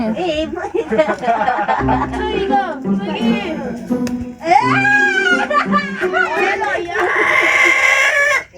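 A crowd of fowl such as chickens and roosters being fed at a spot in Perak, with clucking and a crowing call mixed under lively close talking.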